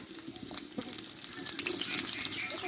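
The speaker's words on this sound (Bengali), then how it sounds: "তেলটা গরম হয়ে গেছে আর এখানে বড় একটা পেঁয়াজ কেটে নিয়েছিলাম একটু ভেজে নেবো পেঁয়াজটা" A large chopped onion fries in hot white cooking oil for a bitter gourd recipe, giving a steady bright sizzle and crackle that swells slightly toward the end, with occasional stirring clinks.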